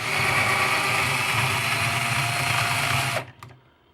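A small power tool whines steadily while grinding out a hole in a Nerf Sharpfire blaster, close and loud for about three seconds, then cuts off and leaves a couple of brief scrapes.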